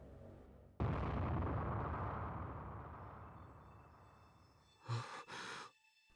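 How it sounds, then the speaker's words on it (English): A single sudden explosion booms in the video game Chaos;Child, a loud burst that rumbles and slowly fades over several seconds, followed by a couple of short muffled thumps and bursts. "Was that an explosion?"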